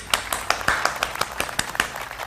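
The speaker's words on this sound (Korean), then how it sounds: "한번 박수를 우리가 한 10번만 치고 시작해 볼까요?" A room of presentation attendees claps together in a quick run of about ten sharp, evenly spaced claps, fairly close and with no talking over them.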